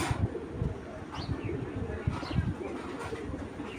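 A pair of Hurricane breed pigeons coos softly and repeatedly at close range, low rolling calls mixed with light chirps and a brief flutter, with no talk.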